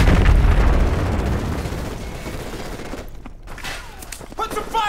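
Heavy gunfire in Call of Duty Modern Warfare Remastered, with loud, dense volleys and booming blasts up close that fade briefly, then return with sharp shots as voices shout over the battle.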